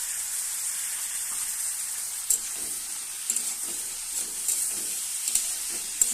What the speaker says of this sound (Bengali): দিয়ে একটু ভালো করে নাড়াচাড়া করে একটু কষিয়ে নেব